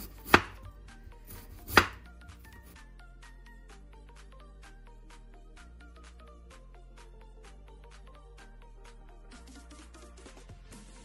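Two sharp, separate knife chops through vegetables and potatoes on a cutting board ring out close and loud at the start, then give way to soft background music.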